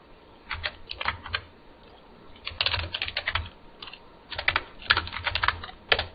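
Close keystrokes on a computer keyboard come in quick bursts separated by short pauses while a password is entered.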